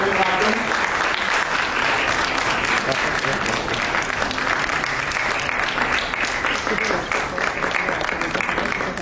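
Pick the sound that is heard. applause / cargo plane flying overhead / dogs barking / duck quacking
applause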